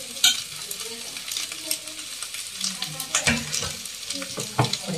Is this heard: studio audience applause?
no